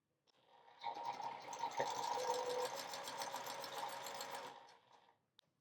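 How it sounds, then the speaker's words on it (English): A sewing machine runs in one steady burst of about four seconds, stitching diagonally across charm pack fabric squares for a quilted wall hanging, close and alone with a brisk, even whirring rhythm. "sew across the diagonal again"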